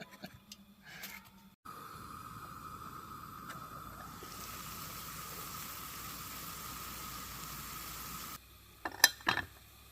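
Beef patty and vegetables sizzling together in a pan on a camp stove during an overnight truck-bed camping trip, a steady close frying hiss with brief clinks of utensils before and after.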